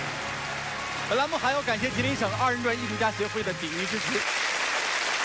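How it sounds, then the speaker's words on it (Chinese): A studio audience at an Errenzhuan folk performance competition claps steadily for seven judges, a continuous patter of applause running under a host's speech. "掌声欢迎7位"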